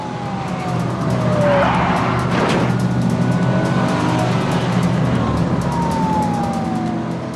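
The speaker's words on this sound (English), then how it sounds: "tries ramming the fleeing car off-road onto a woodland track" A police car chases a fleeing car onto a woodland track, loud engines revving continuously with a siren sweeping through, and brief heavy bursts that fit the police car ramming the fleeing vehicle.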